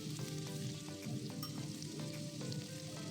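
Chillies, curry leaves and sambar onion fry in oil with salt and turmeric, a soft, steady sizzle with occasional stirring scrapes, faint and continuous, no voices.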